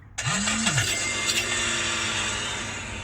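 A taxi car in Kyiv pulls away: the engine catches with a quick rising rev, then settles into a steady running hum as the car drives off, heard from inside.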